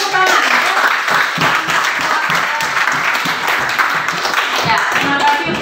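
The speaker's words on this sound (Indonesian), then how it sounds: "Ya, kita berikan tepuk tangan." Applause from a class of schoolchildren fills the room, a loud, steady wash of clapping with scattered voices mixed in throughout.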